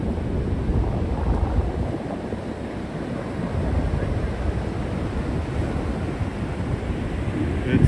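Ocean waves at night wash in as a steady low rumble of surf, blurred by gusts of wind buffeting the microphone, with no voices over it.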